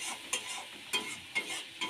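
Spices and ginger paste being stirred and lightly fried in a pan for a pumpkin-stem dal, soft sizzling with four scraping strokes of a spoon at regular intervals, close and moderately quiet.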